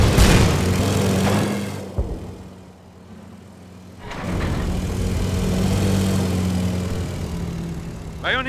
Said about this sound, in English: Keep this panzer running.